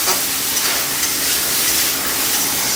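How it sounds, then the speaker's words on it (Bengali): Ambarella fruit pieces fry in a pan with salt and turmeric, giving a steady, close, even hiss of sizzling oil that holds without a break for the whole short stretch, with no talking. "দিয়ে দিলাম লবণ আর হলুদ এখন আমি আমড়াগুলোকে ভেজে নেবো"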